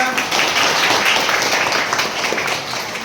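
A room full of students claps together in a dense, sustained round of applause that stays loud and even for the full few seconds.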